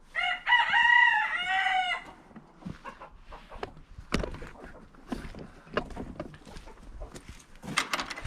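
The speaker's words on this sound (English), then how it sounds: "This is the flock. You got the big rooster" Big rooster crowing loudly up close in a coop, one long crow, followed by scattered clucks and shuffling from the flock of chickens.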